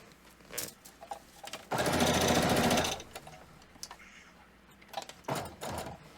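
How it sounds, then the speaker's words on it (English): A sewing machine runs in a loud, steady burst of rapid stitching for about a second, with shorter quieter runs before and after as the line is sewn back and forth to secure a piece in place. "I'm going to go back and forth to sew that piece in there."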